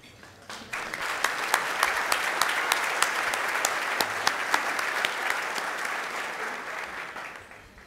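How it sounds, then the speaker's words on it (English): Audience at a State of the Congressional District event applauding the UBS table, a steady wash of clapping that builds after a quiet start, holds for several seconds and fades at the end. "you and thank you with our applause."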